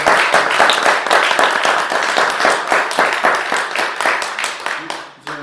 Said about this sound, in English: we clap for you